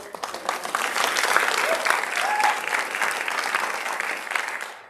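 An audience at a mobilizing event applauds co-sponsor CASA with steady, dense clapping that holds for several seconds, a few voices faintly mixed in before it tapers off.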